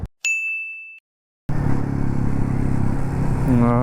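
Motorcycles, including a Royal Enfield Meteor, are parked at a breakfast stop on a road trip to Goa: a sharp metallic ding rings out, then a brief silence, then a steady engine rumble with a rising rev near the end.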